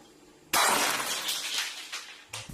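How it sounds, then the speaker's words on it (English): A glass breaks in a kitchen: one sudden loud crash is followed by shattering fragments that scatter and fade, and a last sharp clink comes at the end. "it proceeded to break a glass"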